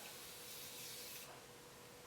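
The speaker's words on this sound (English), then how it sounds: "This sprayer is way more consistent. This one is kind of spraying out splotches." A continuous soft hiss of Morphe setting spray misting from its pump sprayer, faint and close, with no talking.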